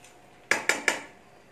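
Three quick metallic clanks close by, evenly spaced, as cleaned crabs are dropped into a metal cooking pot of boiling crab curry, then quiet.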